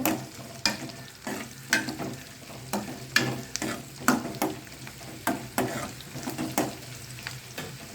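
Onions and garlic fry in sesame oil in a pan for a brinjal fish curry, a steady close sizzle broken by repeated sharp scraping stirs, with no talk.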